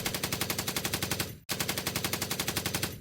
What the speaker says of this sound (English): As one, you open fire and rake their bodies with bullets.